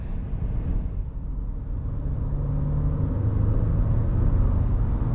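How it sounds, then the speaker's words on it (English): A 2021 Ford F-150 XLT pickup truck with 400 pound-feet of torque accelerates on the road, its engine a steady low rumble that swells gradually in loudness, heard from inside the cab without talking. "Yeah, it is effortless with the acceleration."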